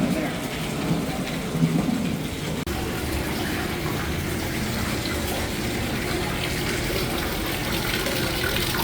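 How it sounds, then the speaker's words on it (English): Heavy rain pours steadily onto a New Orleans street, a dense continuous wash of falling water close by with a faint murmur of voices mixed in. "it's still raining outside a lot"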